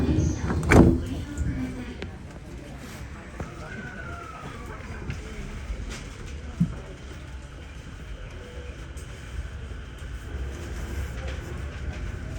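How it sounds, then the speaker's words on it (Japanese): Sliding doors on a JR Sobu Line local train shut at a station in Funabashi, Japan, with a sharp thump near the start, followed by a low rolling rumble of the carriage and faint clatter. "2番線ドアが閉まります。"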